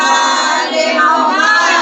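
A crowd at a Shia majlis on the 9th of Muharram chants religious slogans and salawat in unison, loud and close, a dense wall of many voices held steady throughout.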